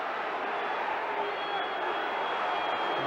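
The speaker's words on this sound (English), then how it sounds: "And the crowd not happy with the referee's verdict" Football crowd at a Coventry City v Liverpool match: a steady, distant wash of crowd roar that holds at an even level throughout, with a commentator's voice over it.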